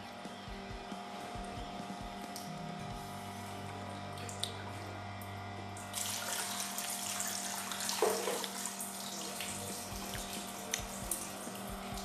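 Water runs steadily from a tap in a home in Baghdad's Sadr City, where the supply is contaminated. A low, continuous flow grows fuller and splashier partway through, with no voices.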